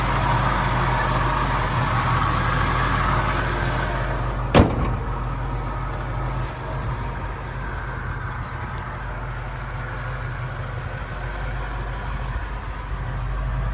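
A 1966 Mustang's 289 V8 engine idles steadily with a low, even rumble, plus one brief sharp knock partway through.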